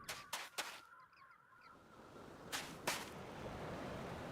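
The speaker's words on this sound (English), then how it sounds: "No, it's probably seagulls." Seagulls calling in the game Garry's Mod, a few faint honking cries in the middle between sharp whooshing bursts, over a low background rush.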